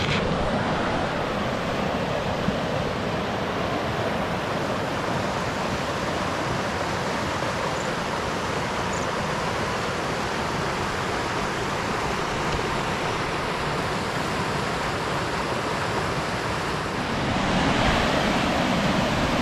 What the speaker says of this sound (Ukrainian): Дуже багато водоспадів є розкиданих на території.